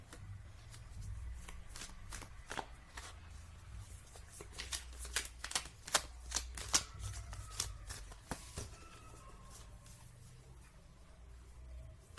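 Tarot cards are shuffled by hand up close in soft, repeated riffling and slapping bursts that grow busier midway, over a faint low background hum, with no one speaking.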